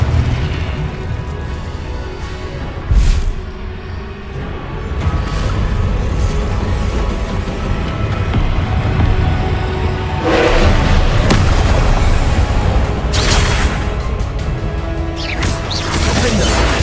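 Confringo blasting-spell explosions from the Hogwarts Legacy video game, a dense run of loud booming blasts and crashes with sharp impacts near 3, 10 and 13 seconds over a constant rumbling battle din.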